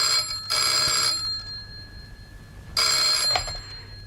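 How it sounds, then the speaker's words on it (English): A telephone bell rings twice in a dramatised radio thriller, each ring a loud, bright trill of about half a second, separated by a long pause. "I put down the phone, but a few minutes later, it rang."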